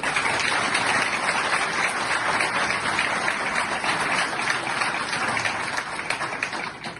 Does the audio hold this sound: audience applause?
yes